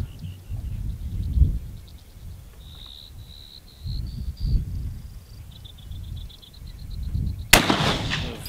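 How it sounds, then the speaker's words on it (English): A single sharp rifle shot cracks out near the end, fired from an Idaho shooting bench outdoors, with crickets chirping steadily through the quiet stretch beforehand. "You notice she's shooting off an Idaho shooting bench."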